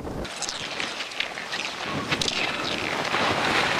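Strong wind buffets the microphone at the blustery start of the Polar Race, a steady roaring rush with gusty surges that build toward the end, with no talk.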